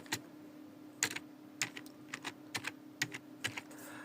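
A computer keyboard gives a light, irregular tapping of separate keystrokes, close and fairly soft over a steady low hum, with no talk.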